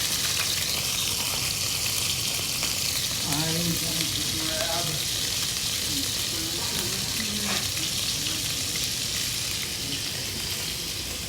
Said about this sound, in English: we're going to lay this fish in there, and it should sizzle that much